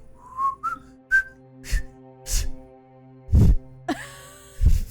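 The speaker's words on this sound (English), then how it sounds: "just kind of whistling to himself right now" A man whistles to himself in a series of short rising notes and brief tune fragments, close and fairly clear, with soft breathy pauses between phrases and no talking.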